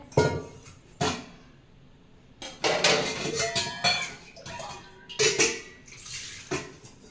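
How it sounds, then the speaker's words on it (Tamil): Water is poured into carrot and samba wheat rava dosa batter in a bowl and stirred, giving wet sloshing, scraping and clinking of a spoon against the vessel in uneven bursts, close and moderately quiet. "கொஞ்சமாக தண்ணி ஊற்றிக்கலாம்."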